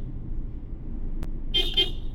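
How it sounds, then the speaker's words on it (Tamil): At a night-time road junction, a car horn gives two quick, close toots near the end, over a quiet low road rumble from the car interior. "இங்கேயும் நம்ம ஹாரன் கொடுத்துக்கணும்"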